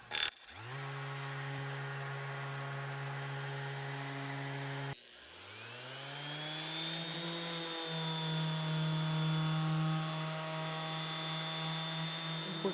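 Two random orbital sanders, one a Festool ETS EC 125/3 EQ Plus, run with no dust extractor, each spinning up in turn with rising whines into loud steady motor drones, the second overlapping the first.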